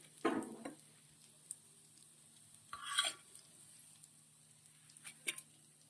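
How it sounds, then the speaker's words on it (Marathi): Saranga (pomfret) fish fried crisp in a pan, heard as a faint, quiet sizzle with a few soft scrapes and clinks as the pieces are moved and taken out. "हे मासे आता छान खरपूस भाजून झालेले आहेत"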